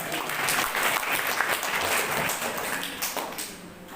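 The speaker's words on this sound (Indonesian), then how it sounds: "Tepuk tangan untuk Cilacap" A crowd claps steadily in sustained applause, dense and fairly loud throughout.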